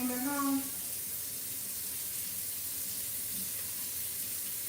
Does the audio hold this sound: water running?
yes